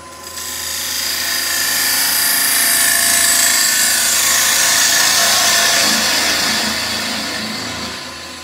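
A bowl gouge cuts into a spinning wooden blank on a lathe while waste is cleared from a German smoker piece, giving a steady loud scraping, shearing hiss that swells and fades over about eight seconds with no talk.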